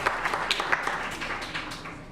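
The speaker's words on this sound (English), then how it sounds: "Okay, let's hold our applause now." Audience applause at a city commission meeting, steady dense clapping from a crowd filling the room for about two seconds, moderately loud with no talk over it.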